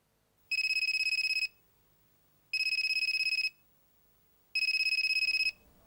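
A phone ringtone sounds in three even electronic bursts about a second long with short gaps between them, clear and alone against a quiet room.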